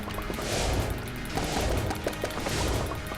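A gun fires in Enter the Gungeon in heavy, muffled repeated blasts spaced about a second apart, with smaller impacts and clatter between them.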